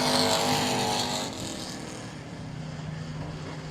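Race cars in a heat race at South Texas Speedway roar past, loud at first and then easing into a steady, more distant engine drone.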